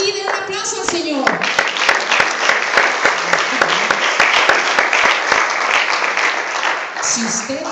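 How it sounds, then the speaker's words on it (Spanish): A church congregation claps loudly and steadily for several seconds during a Spanish-language sermon, a dense wash of many hands after a preacher's voice, tapering off at the end. "den un aplauso al Señor."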